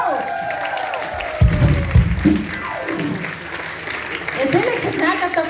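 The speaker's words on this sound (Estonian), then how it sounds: "Suur aplaus!" A concert audience in Tartu applauds for the band's drummer, dense clapping running throughout while a presenter's voice and music carry over it.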